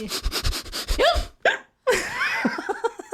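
Sharp, repeated hiccups from a woman with an uncontrollable hiccup condition in a news segment, several quick close spasms mixed with breathy laughter-like gasps.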